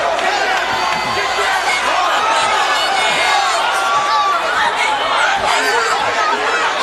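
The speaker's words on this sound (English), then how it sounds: "Josh Hinger getting the crowd excited here." A Hawaii MMA crowd between rounds roars and chatters as a continuous wall of excited voices and cheers, loud and close, with individual shouts surfacing from the mass.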